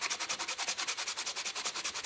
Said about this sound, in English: Just sanding the face off.